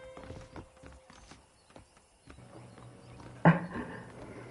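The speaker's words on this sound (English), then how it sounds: "The horses are saddled up over here." Saddled horses in the Red Dead Redemption video game, with soft hoof clip-clops and shuffling at moderate distance, then a short louder snort or whinny near the end.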